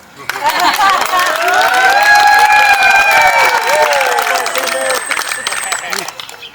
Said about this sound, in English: I wanted to start out tonight by giving a round of applause